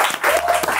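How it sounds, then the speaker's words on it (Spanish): Audience applause on a Chilean comedy talk show, a steady burst of clapping lasting under a second, with a host's voice faintly mixed in. "¡Fuerte el aplauso, señoras y señores!"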